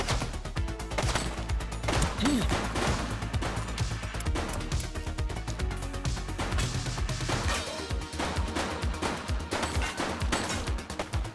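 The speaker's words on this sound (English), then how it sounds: "Shots fired!" Gunfire in The Precinct police video game, a dense stretch of repeated shots and impacts under a busy mix of game music and effects, loud throughout with no clear gaps.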